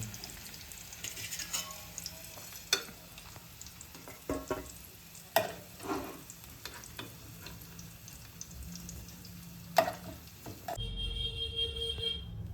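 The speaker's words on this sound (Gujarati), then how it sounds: "આપણે બટેટા ફ્રાય થઈ ગયા છે હવે આપણે એક ડિશમાં કાઢી લઈશું" Potatoes fry in a pan for dum aloo with a faint, continuous sizzle, broken by scattered clinks and scrapes of stirring; the sound changes near the end.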